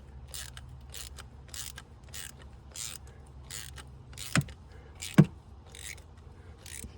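Socket and extension tightening a cylinder head temperature sensor in an aluminum part on a Ford Focus: faint repeated ratcheting clicks in a steady rhythm, with two sharper knocks near the end, no talking.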